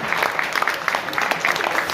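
A live audience bursts into applause for Dejan, a dense patter of many hands clapping briefly and fairly close, with a faint voice mixed in.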